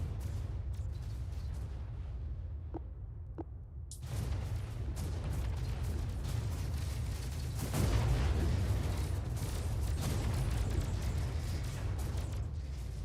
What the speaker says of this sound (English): There's a lot of pulse howitzers.